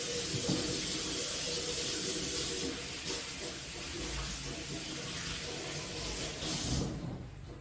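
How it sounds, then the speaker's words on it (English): Tap water runs steadily into a kitchen sink during hand washing, a continuous close hiss and splash that cuts off near the end. "wash hands."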